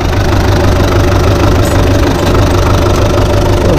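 Steady, loud tractor engine running in a hayfield during hay baling, a continuous low rumbling idle with knocking texture throughout, no talking.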